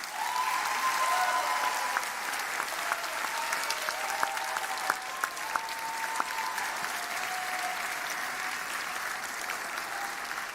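Sustained applause from a large commencement crowd honouring faculty and staff of Washington Adventist University, steady dense clapping with a few louder individual claps, continuing unbroken throughout.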